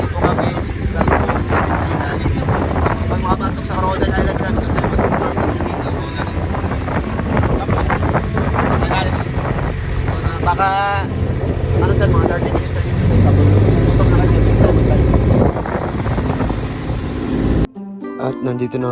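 A boat engine drones steadily over rushing water and wind buffeting while island hopping off Boracay, Philippines, with voices talking intermittently near the microphone.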